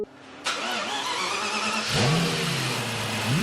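A hand-built Lexus LFA 4.8-litre engine on a test bench starts with a sharp bark, then revs up and settles, with rising and falling engine sweeps, close and clear, no talking.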